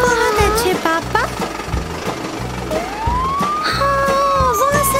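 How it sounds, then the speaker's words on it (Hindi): Animated fire truck siren sounding in a Hindi nursery rhyme about the wheels on the fire truck, rising and falling tones over a steady bouncy music backing, loud and continuous. "फायर ट्रक की सायरन बजे हो"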